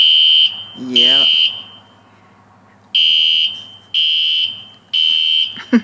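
A home fire alarm sounds during a test: loud, piercing electronic tones come in repeated one-second bursts, and a voice cuts in briefly near the start.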